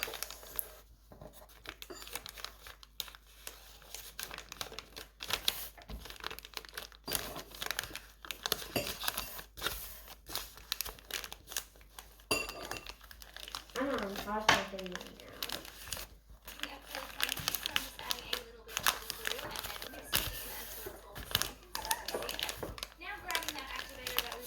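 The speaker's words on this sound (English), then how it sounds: "So roll it up about halfway from your paper. Then you're going to gift wrap." Newspaper crinkles and rustles as it is rolled around a mason jar to form paper seedling pots, a long run of close, uneven crackling bursts with a voice talking now and then.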